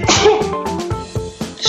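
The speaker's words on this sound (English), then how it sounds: "I'm going to sneeze again." A single loud, close human sneeze with a sharp burst at the start, followed by brief breathy and vocal traces, no words spoken.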